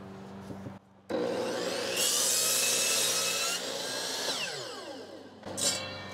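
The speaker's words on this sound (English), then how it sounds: "It can easily power a 12-inch DeWALT miter saw." A 12-inch DeWALT miter saw powered by a portable battery pack in a backyard spins up and cuts through wood, a loud sustained whine and cutting roar that winds down near the end.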